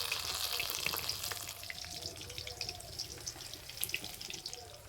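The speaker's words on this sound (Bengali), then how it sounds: "আস্তে আস্তে জাল দেওয়া ভেজে নেব।" Spinach leaf rolls frying slowly in hot oil give off a soft, continuous bubbling sizzle, steady and close, with no voices.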